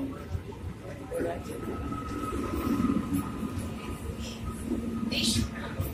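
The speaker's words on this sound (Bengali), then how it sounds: "চলো, ট্রেন আসছে, দেখতে পাচ্ছ তোমরা, দীঘা লোকাল।" A Digha local passenger train pulls in with a steady, loud rail rumble and clatter lasting throughout, while voices talk nearby over it.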